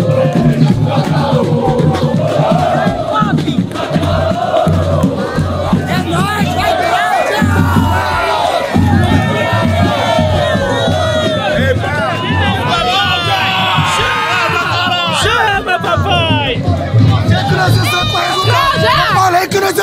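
Supporters at an amateur neighbourhood football match between Jardim Claudia and Vila São José chant and shout together in a loud, sustained crowd roar, with whoops and someone speaking over the noise.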